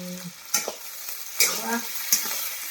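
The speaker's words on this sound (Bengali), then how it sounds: "ভাজা হয়ে গেছে" Chicken frying in a pan for a dry chilli chicken, a soft continuous sizzle broken by three sharp stirring clinks and scrapes, close by.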